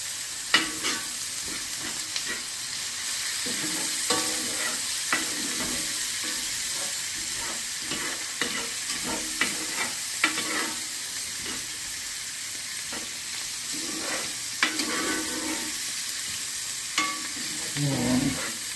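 Chili aromatics with garlic sizzle steadily in a pot as they cook down, broken by repeated scraping stir strokes throughout; no one speaks.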